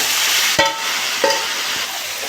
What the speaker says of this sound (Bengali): এবার মাংসটা আমি দিয়ে দেবো